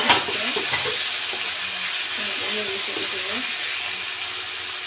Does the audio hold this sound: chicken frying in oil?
yes